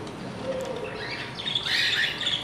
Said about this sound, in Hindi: आप देख रहे हैं ये मेरे बजरी तोते हैं